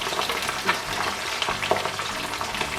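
Mackerel frying in oil in a pan, a steady dense sizzle and crackle running throughout, close and continuous with a few small pops and spatters.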